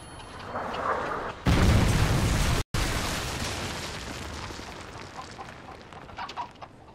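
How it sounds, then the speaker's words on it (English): A Predator missile detonates in Call of Duty: Modern Warfare 3: a single loud, broad blast bursts in over the game's ambient noise, holds for about a second, then cuts off and trails away into fainter battlefield sound. "Friendly Predator missile inbound."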